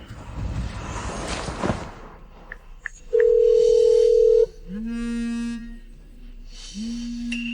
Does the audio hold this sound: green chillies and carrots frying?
no